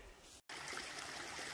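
A woodland creek flows with a steady, broad rushing hiss, close and continuous apart from a brief cut near the start.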